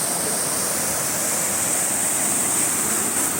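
A waterfall near Chennai pours down in a steady, dense rush of falling water, loud and unbroken from start to finish.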